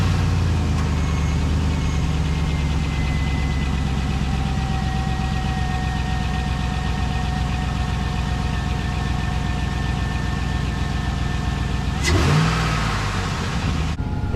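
A high-mileage car engine runs on new spark plugs and correct plug wires, idling in a steady, continuous drone with harmonic hum, then a brief revving surge near the end, with no talking.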